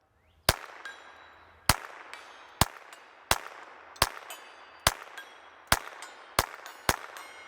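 Nine sharp Ruger Mark IV Lite .22 pistol shots with CCI standard-velocity ammunition at an outdoor range, each a crisp crack followed by a ringing metallic ping from a 4-inch steel plate at 100 yards, spaced evenly about one second apart.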